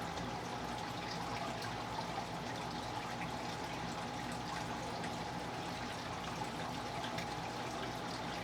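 Hygger DC Pro wavemaker set to high flow in an aquarium, giving a steady, faint rushing wash of churning water that holds evenly throughout with no talking.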